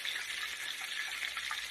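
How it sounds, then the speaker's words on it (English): Catfish frying in a pan at a lakeside cookout on Oologah Lake, Oklahoma, giving a steady, dense crackling sizzle with small pops throughout, close and even in level, with no talking. "Frying that catfish"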